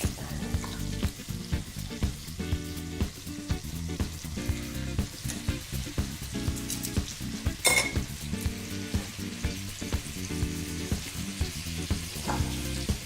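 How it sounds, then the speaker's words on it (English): Steak frying in a hot pan of oil and butter with rosemary sprigs, a steady loud sizzle and crackle running throughout with occasional stirring clinks, no talking. "now we're going to add in the steak"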